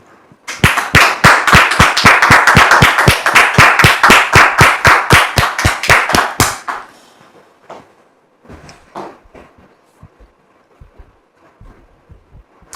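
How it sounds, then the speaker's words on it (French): Loud, rhythmic audience applause for a woman welcomed onto a French-language television show stage, a steady run of claps for about six seconds that stops abruptly, followed by faint scattered sounds and quiet. "sous vos applaudissements, s'il vous plaît."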